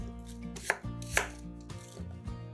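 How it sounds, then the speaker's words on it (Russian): Knife chopping apples into small pieces on a board, several crisp cuts spaced out at an even pace over a low steady background hum, close and moderately quiet. "Яблоки нарезаем небольшими кусками."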